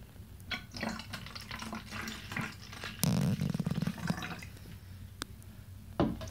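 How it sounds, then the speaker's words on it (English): Water is poured into a mixing container while preparing an AzaSol garden spray, giving close splashing and gurgling bursts with a stronger pour midway and a few clicks and knocks of the container around it. "now I'm gonna add a little more water"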